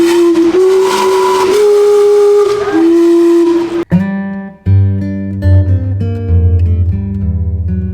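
Gastown steam clock in Vancouver whistling: a loud, steady steam whistle tone with a sliding pitch for about four seconds, then a run of clear, chime-like musical notes.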